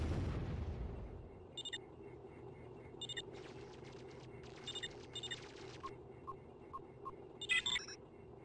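An off-map artillery barrage in the strategy video game Warzone 2100 opens with a loud, deep boom that rolls off. Quieter bursts and scattered electronic beeps and alert tones follow.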